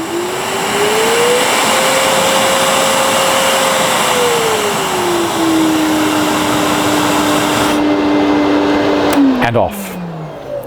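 A Festool CT 26 dust extractor runs at close range with a loud, steady whooshing roar, its motor pitch climbing as it is turned up, then holding before winding down as it is switched off.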